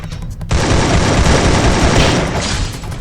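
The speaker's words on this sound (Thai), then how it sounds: "ระเบิดน่ะ" A grenade blast in the Free Fire video game: a loud, sustained burst of booming, crackling noise that cuts in sharply after half a second and rumbles on to the end.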